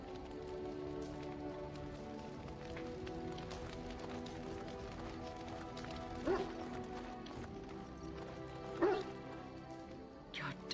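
A dog in the video game Dragon Age: Origins gives two faint, distant barks several seconds apart beneath a steady rain-like background hiss.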